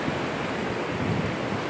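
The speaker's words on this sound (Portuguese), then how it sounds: "Tá bem nervoso o mar." Rough sea waves at Ilha Comprida beach in the early morning with the tide coming in, a steady, loud wash of surf noise roughly blended with wind across the microphone, no talking.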